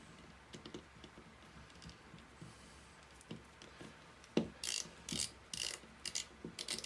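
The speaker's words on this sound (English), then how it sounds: "stop screwing the screw in." Screwdriver bit driving a small screw into a Roscoe valve, quiet ratcheting clicks and short grinding bursts that come in quick spurts and grow louder near the end, with no talking.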